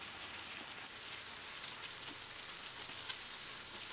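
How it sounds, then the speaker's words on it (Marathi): Crushed garlic frying in hot oil with cumin and mustard seeds, a steady soft sizzle and crackle with scattered faint pops throughout. "जिरं मोहरी घातल्यानंतर आता ठेचलेले लसूण घालायचे आणि चांगले परतायचे त्यांना"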